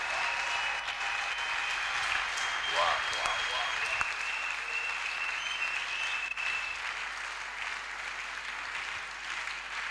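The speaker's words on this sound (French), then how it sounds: "Give the Lord a mighty hand of praise." A congregation at a church service claps in praise, a steady, sustained round of applause that runs through the whole stretch, with voices faintly audible beneath it.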